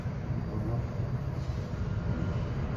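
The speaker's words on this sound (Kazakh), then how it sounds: "Вот поезд." Train passing near a ferroalloy plant, a dense continuous low rumble and rolling roar that stays steady and fairly loud throughout.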